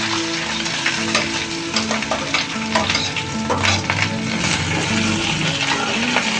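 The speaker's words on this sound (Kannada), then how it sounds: "ಈರುಳ್ಳಿ ಚೆನ್ನಾಗಿ ಎಣ್ಣೆಯಲ್ಲಿ ಫ್ರೈ ಆಗಬೇಕು." Lengthwise-sliced onions fry in oil after curry leaves, making a dense continuous sizzle up close with frequent stirring scrapes and occasional clinks.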